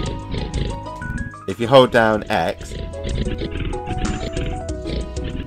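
A fez-wearing pig with the travelling merchant in Stardew Valley honks out a short melodic tune of bright, pitched notes, heard under ongoing game music while someone talks over it.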